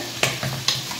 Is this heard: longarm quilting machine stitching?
no